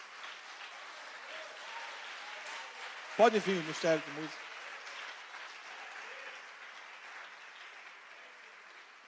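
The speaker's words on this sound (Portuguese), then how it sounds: "Pode aplaudir o Senhor, querido." A church congregation applauds the Lord with a soft, continuous wash of clapping throughout, while someone speaks briefly over it near the middle.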